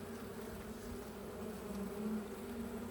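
Honeybees at an opened hive during a spring inspection, their buzzing a steady, dense drone that holds throughout, close to the microphone with no talking.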